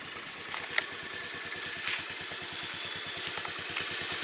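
A 2015 Honda Dio scooter engine idles steadily after starting, its even putter running close and continuous for a few seconds with a couple of faint clicks on top.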